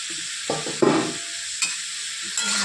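Eggplant and green peas frying in a wok, soft sizzling broken by several short bursts of spatula stirring and scraping, close and alone without speech.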